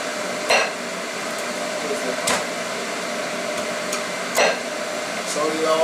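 A cleaver strikes through cooked soy chicken on a chopping board in a home kitchen, giving three sharp, separate chops spaced a second or two apart over a low steady background hum.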